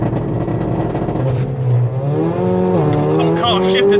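Mercedes-AMG A45 launching hard, its engine note loud and close as it accelerates and rises in pitch through the revs, with a brief shift partway through and voices talking over it.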